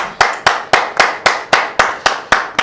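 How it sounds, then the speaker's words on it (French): Studio audience clapping in unison on a women's day show: nine crisp, evenly spaced claps in a steady beat, close and loud, with nothing else heard. "On va applaudir."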